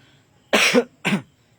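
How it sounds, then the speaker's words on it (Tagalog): Two sharp, close coughs in quick succession, the first longer and harsher, against a quiet background. "Pagpasensyahan nyo na po, may ubo."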